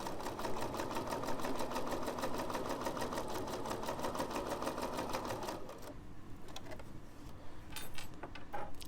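A sewing machine tacking down fabric with its longest stitch, giving a rapid, even mechanical chatter for about six seconds before stopping, followed by quieter handling clicks and rustles close by.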